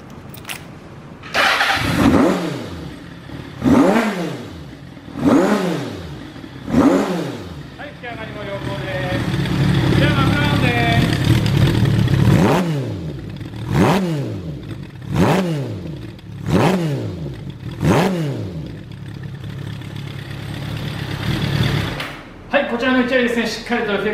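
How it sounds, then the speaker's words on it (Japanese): A Kawasaki Zephyr 750 motorcycle with a black collector exhaust and FCR35 carburetors starts up and is revved repeatedly in sharp bursts, idling in between, loud and close. "ではエンジンの方始動していきます。"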